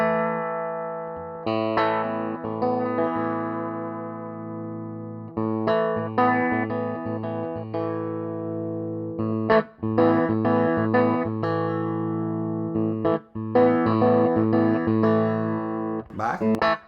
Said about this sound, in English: turn it up just a little bit to blend in some of the neck pickup to that bridge pickup